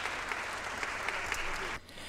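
A concert audience claps at the close of an orchestra piece, a dense even wash of applause that drops off abruptly near the end.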